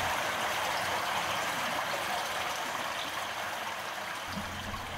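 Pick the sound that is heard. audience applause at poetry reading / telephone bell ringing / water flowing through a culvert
water flowing through a culvert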